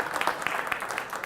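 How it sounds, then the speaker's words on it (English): A crowd at an Ironman gathering applauds for newcomers, a steady wash of clapping from many hands held at a moderate, even level for a short burst. "Let's give them a round of applause."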